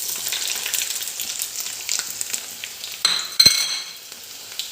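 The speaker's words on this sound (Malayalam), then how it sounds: "ഇനി നമുക്ക് വെളുത്തുള്ളി ഇടാം." Garlic dropped into hot oil after mustard seeds on a low flame for a Kerala-style dal, a soft steady sizzle with a sharp burst of crackling and a metal clink near the end.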